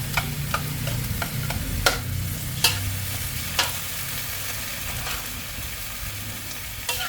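Soybean paste going into a hot pan while stir-frying Chinese kale with squid and shrimp: a continuous loud sizzle with sharp scraping clicks of a spatula against the pan every second or so.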